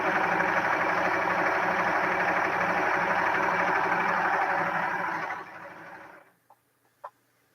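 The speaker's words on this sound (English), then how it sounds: "I'm going to serge it down to the end" A serger sewing machine runs steadily at close range, stitching down the edge of a jelly roll quilt strip with a dense, rapid mechanical whir, then stops abruptly, leaving a few faint clicks.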